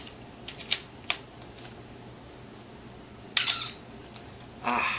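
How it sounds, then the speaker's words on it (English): Film advance lever on a Canon AE-1 camera gets cranked, a run of small mechanical clicks and ratchety scrapes in short bursts against a quiet background, close up. "Your crank to crank the film."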